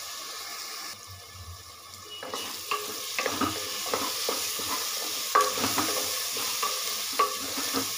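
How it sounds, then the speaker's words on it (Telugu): Onions and tomato pieces being stirred in a frying pan for tomato rice, with a steady sizzle under repeated scraping and clinking strokes of the spoon, close and clear, no talk. "ఇవన్నీ వేసుకొని బాగా మిక్స్ చేసుకోవాలి"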